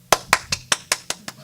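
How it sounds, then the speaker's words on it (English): Hands clap about eight times at a steady, even rhythm, each a sharp, close, fairly loud smack, during a lecture on global warming. "I clap hand"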